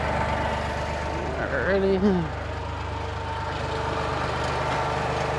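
A tractor engine runs at a steady low drone with its PTO engaged while a 20-acre hay field is sprayed. A person speaks one short word near the middle of the clip.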